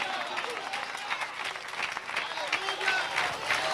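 A congregation claps and cheers in sustained applause, dense and lively, with voices mixed into the crowd noise throughout.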